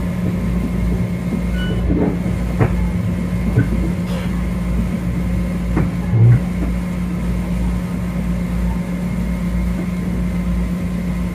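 A Metro-North Hudson Line commuter train rumbles steadily along with a constant low hum and occasional clanks and rattles from the cars, no voices over it.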